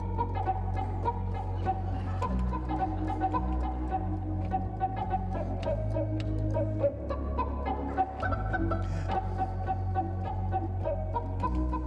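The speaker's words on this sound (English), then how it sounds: "this organ has a really nice chicken sound on it" A theatre organ's built-in chicken effect played at a concert, bursts of clucking squawks scattered over sustained low organ tones and chords, loud and continuous without talk.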